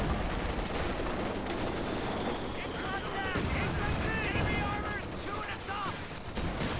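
Battle in Company of Heroes 2, a real-time strategy game: a continuous wash of gunfire and thudding mortar fire, with crackling bursts and faint in-game voices over the din.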